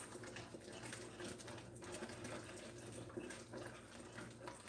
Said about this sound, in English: It's going to keep on bubbling because my burner is hot